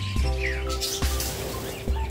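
Pet birds in an open aviary chirp with short, bright calls and a few trills, close and fairly steady over a low background hum, no voices.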